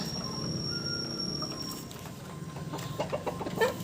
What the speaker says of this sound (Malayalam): മുട്ട ഇടുന്ന കോഴികളുണ്ട്.